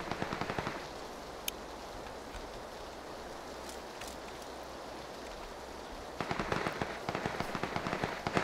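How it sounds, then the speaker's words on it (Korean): Video game gunfire: quick rattling bursts of rapid shots at the start, a quiet stretch with only faint isolated pops, then a renewed flurry of sharp shots near the end, fairly distant and modest in level. "아니 얘네는 왜 여기서 쏘고 난리야?"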